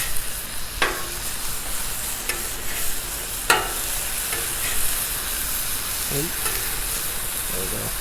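Big Mac beef patties sizzle steadily in a hot pan, a continuous loud frying hiss broken by a few sharp clicks and scrapes as they cook.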